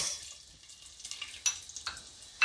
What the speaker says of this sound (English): So now that the oil has heated up, we'll put in our carrots.